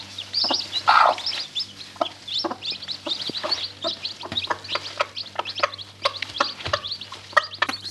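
A hen clucks to call her newly hatched chicks out to feed, with repeated soft clucks and high peeping chirps from the chicks, close and steady throughout.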